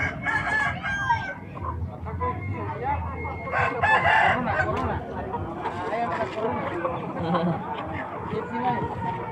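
Chickens and roosters at a Sunday market in Telaga, Gorontalo, clucking steadily with several crows rising over a busy crowd of chatter and nearby talk.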